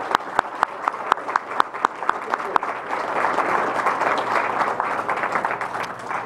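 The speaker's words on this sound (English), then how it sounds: "I'd like to give a round of applause for our candidates." Applause for candidates at a governor candidate forum, opening with a few loud, spaced claps from someone nearby before the crowd joins in with dense, steady clapping and some murmured talk underneath.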